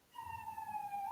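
Emergency vehicle siren wails past outdoors, a steady rising tone heard at moderate distance and growing slightly louder, with no talk over it.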